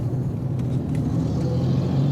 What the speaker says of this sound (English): in my car and I'm heading to the airport